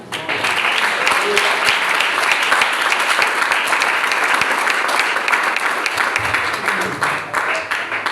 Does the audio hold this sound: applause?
yes